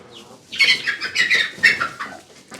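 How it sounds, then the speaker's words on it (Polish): A rooster on an icy day near a henhouse clucks and calls in a run of loud, close, bright bursts after a quiet start, with no talk. "Kogut!"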